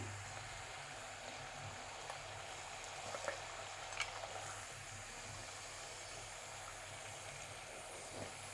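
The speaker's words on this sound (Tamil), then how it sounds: "சவுண்ட் வருதில்ல, நல்லா ஃப்ரை ஆகிருக்கு" Spicy rice balls frying in hot oil over a medium flame, a steady soft bubbling hiss that runs unbroken at low level with a few faint crackles and no voices.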